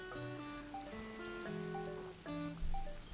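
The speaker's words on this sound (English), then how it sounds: "looks like we have a nice rainy day here on Larkshire" Rain falls in the video game Animal Crossing: New Horizons, a soft steady patter under gentle melodic background music, quiet and continuous with no voices.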